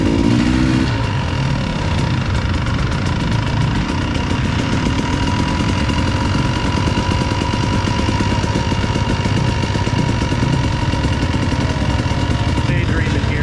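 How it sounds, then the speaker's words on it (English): A 2021 KTM 300 XCW two-stroke dirt bike runs steadily nearby with a raspy, buzzing engine note, holding a fairly even idle-to-midrange drone for about thirteen seconds with little change in pitch. "2021 KTM 300 XCW"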